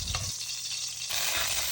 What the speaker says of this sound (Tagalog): Magpiprito tayo ng talong hanggang sa maging brown na yung kulay niya.